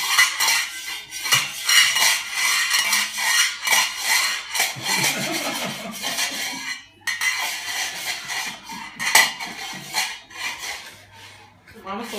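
Metal pots and lids clanging and banging together in an irregular, loud clatter, with voices talking intermittently throughout.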